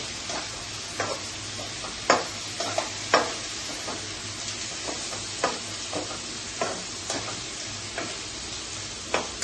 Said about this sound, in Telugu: ఆయిల్లో మంచిగా ఫ్రై అవుతుంది.